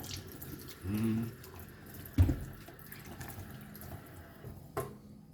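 Kitchen tap runs faintly in the background, a soft continuous water hiss with a few brief knocks and splashes while preparing breadfruit dumplings.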